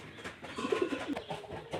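Pigeon cooing close by, a few soft low throaty coos in short phrases over faint background noise, from a bird sitting on two eggs in its nest.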